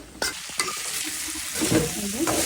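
Vegetables and dried mola fish sauté in oil with a loud, close sizzle, punctuated by sharp scraping stirs of a spatula against the pan, no voices.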